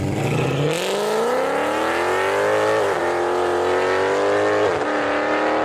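A Mercedes C63 AMG with its naturally aspirated 6.2-litre V8 and 7G-Tronic automatic revs hard and close. The engine note climbs steadily, dipping briefly twice as gears change, then keeps pulling loudly.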